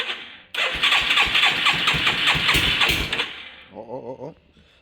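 A quad ATV engine cranks over on a cold start with the choke on, a rapid chugging burst that catches and runs roughly for a few seconds before dropping to a lower, fading idle putter.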